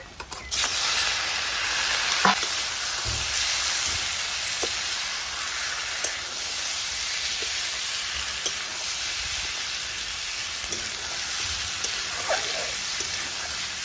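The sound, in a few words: frying meat with turmeric in a pan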